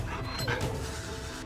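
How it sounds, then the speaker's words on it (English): A dog barks and whimpers in a steady stream of short yips up close, with busy indoor noise around it and no talk over it. "Oh, the stupid dog!"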